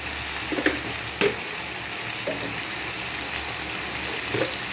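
Chicken curry fries steadily in a pan on low flame with a continuous soft sizzle as chilli and coriander powder are stirred in. Occasional scraping taps and small knocks from the stirring sound close by.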